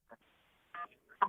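Telephone keypad tones from pressing 1 to accept a call, three short electronic beeps spaced apart on a quiet line, with faint low noise between them.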